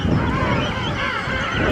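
King penguins at a rookery on the Falkland Islands give loud, overlapping honking, trumpeting calls, close by and continuous, a dense chorus of birds with no talk.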